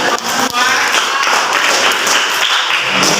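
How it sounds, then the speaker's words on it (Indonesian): A group claps together in a short burst of applause, fairly close and loud, lasting a few seconds. "Ya, tepuk tangan."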